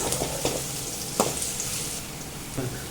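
Shallots sizzle in a hot pan with cinnamon, a soft steady crackle broken by a few scraping stirs of a spatula.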